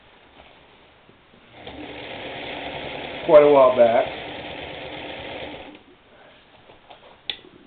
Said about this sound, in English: this is an old sewing machine that I bought